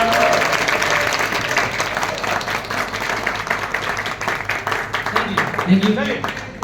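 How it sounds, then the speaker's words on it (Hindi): An audience claps hard and steadily throughout, a thick rattling wall of applause with murmured voices mixed in and a brief whistle near the end. "जोरदार ताली हो जाए यार इसके बाद।"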